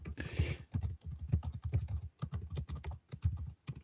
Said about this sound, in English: He's typing to me now.